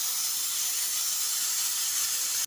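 A pressure cooker full of masala rice made with Indrayani rice vents steam in a loud, steady, high hiss that runs unbroken for a couple of seconds and then cuts off abruptly.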